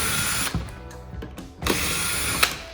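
Phillips screws are backed out of the seat back panel of a 1968-1970 Chevelle with a ratcheting driver, giving close mechanical whirring and clicking bursts with brief gaps between them.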